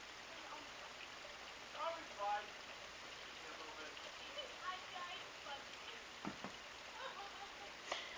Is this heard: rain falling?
yes